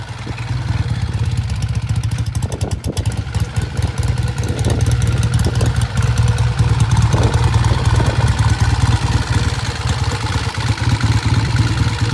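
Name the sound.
vintage British motorcycle engine on test ride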